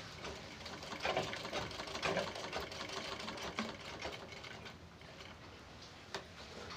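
Sewing machine running steadily while stitching the round neckline of a blouse, a continuous fast mechanical whirr with small rhythmic clicks, close and fairly quiet, with no talking.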